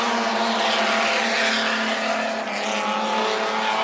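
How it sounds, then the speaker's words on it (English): Outlaw sedan race cars roar around Macs Speedway in a night race, a loud continuous engine drone with steady harmonic tones and faint tyre noise, filling the whole stretch without pause. "And Wellby right on the hammer now, the number 2 car, John Latham."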